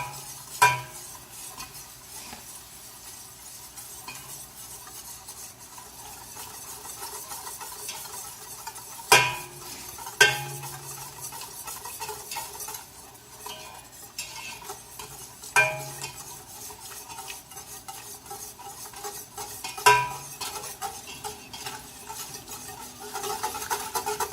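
A spoon works through a pot of crab macaroni and cheese mixture, soft repeated stirring with occasional sharp clinks of metal against the pot over faint background sizzle, close and fairly quiet, no speech.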